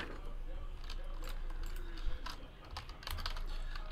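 Keystrokes on a computer keyboard entering a short code during a sports card box break, scattered clicks faintly audible over a steady room hum and background noise.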